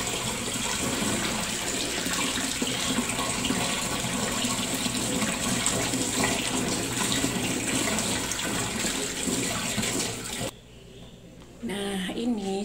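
Papaya leaves are washed under running tap water, a steady broadband splash and trickle that runs continuously before cutting off near the end, leaving a brief quieter moment.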